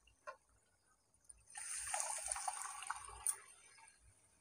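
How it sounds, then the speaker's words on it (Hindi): Boiled chickpeas are poured together with their cooking water into a pan of chicken for spicy Lahore-style murgh chana, a steady splashing pour of liquid lasting a couple of seconds after a few faint clinks. "चना को बॉईल करके रखा था, उसे हम पानी सहित ही इसमें ऐड करेंगे।"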